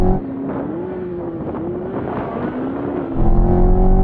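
A C8 Corvette launching hard in a drag race against a Ferrari 458 Speciale, a loud engine drone with a rising pitch, swelling louder near the end.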